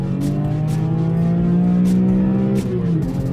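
A BMW S54 3.2-litre inline-six engine revs high and smooth toward 8000 RPM, its pitch climbing steadily before dropping off, loud and close.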